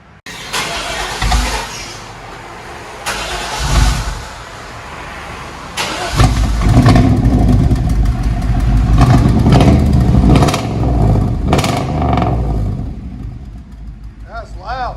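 A 1999 Chevy Suburban with a 5.7L V8 and true dual exhaust cranks over, catches and fires up, then rumbles loudly up close with deep throaty revs while people talk over it.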